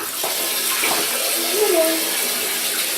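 Tap water runs steadily into a tub or sink while a guinea pig is rinsed with room-temperature water, a constant close splashing wash with a brief spoken greeting over it.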